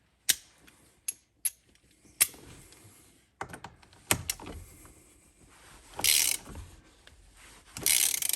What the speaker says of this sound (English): swap over to a ratchet instead if you choose to